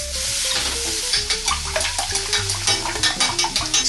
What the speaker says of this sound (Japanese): 鍋肌のお醤油をこそぎ取ってあげて、